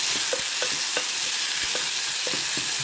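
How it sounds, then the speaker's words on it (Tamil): Chopped tomato sautéing in a pan for okra curry, a steady sizzle broken by a handful of light spatula scrapes and taps, close and alone with no talk. "ஒரு தக்காளி பழம் போடுறேன். இப்போ சரியாக இது வதங்கி வரணும்."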